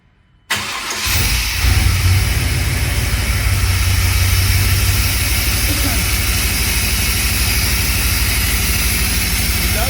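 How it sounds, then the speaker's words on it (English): A rebuilt truck engine, an O'Reilly Power Torque motor, cranks and catches, then settles into a loud, steady rough idle with a low uneven throb, running alone without talk. "Kind of have a little bit of a rough idle."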